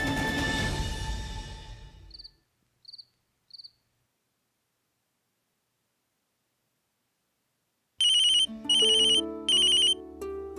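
A telephone rings with short, bright electronic bursts in a repeating pattern after a long silence, following a fading stretch of music at the start.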